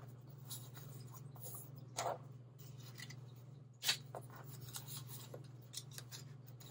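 Scissors snip a small rectangle of fabric in a quiet room, with soft scattered cuts and rustles over a low steady hum, and one sharper snip near the middle.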